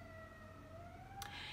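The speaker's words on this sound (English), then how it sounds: "I don't know if you can hear that siren." A distant emergency vehicle siren wails faintly with a slowly rising tone over a low background hum, and a brief burst of noise comes near the end.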